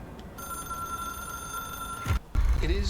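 A telephone ringing in the video game Control, a sustained electronic ring tone that cuts off abruptly, followed by a thud and low rumbling.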